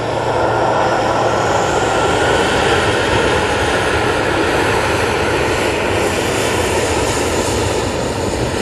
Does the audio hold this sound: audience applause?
no